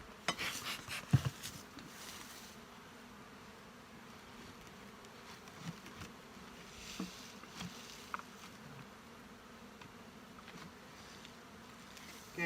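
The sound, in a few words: honey bees buzzing in a hive during inspection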